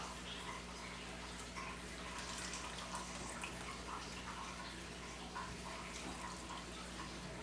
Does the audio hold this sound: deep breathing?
no